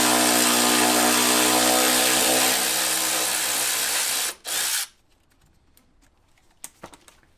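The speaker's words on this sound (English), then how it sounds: "I'm going to use the easy ratchet because it's here and it's quick" A ratchet loosens a 10mm bolt during a Brembo brake upgrade on an S550 Mustang GT, giving a steady rapid clicking that stops suddenly, followed by a few faint taps.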